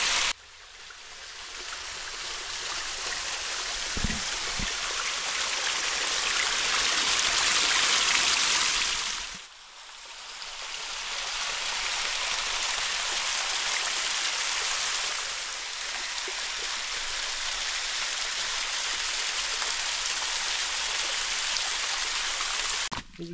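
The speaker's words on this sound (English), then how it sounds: "the majestic areas are the waterfall, aren't they?" Waterfall and stream at Lambley Dumbles, a broad steady rushing of water, loud and close, that dips briefly once and then continues evenly, with no voices.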